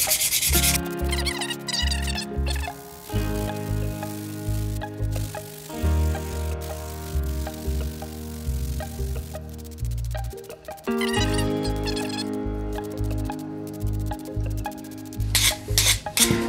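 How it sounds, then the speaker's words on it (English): Fine sandpaper rubbing over a carved wooden frontier spoon, a steady rhythmic scratching that carries on close and fairly loud through the whole stretch with no talking. "we're just gonna sand until this gets super smooth"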